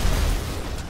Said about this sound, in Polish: Butla wybuchowa.